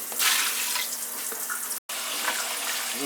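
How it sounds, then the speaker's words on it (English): Tap water rushes into a soup pot, a loud continuous splashing stream with a short break before it resumes. "Some water going in there."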